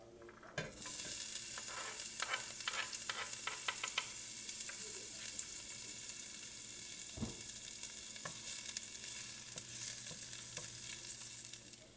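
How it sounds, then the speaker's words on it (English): Garlic sauteing in hot oil in a heated pan for pasta bolognese, a steady bright sizzle that starts abruptly and holds for about eleven seconds, with a few clinks and scrapes of stirring. "Now that the pan is heated up, we're gonna put the garlic in and saute it."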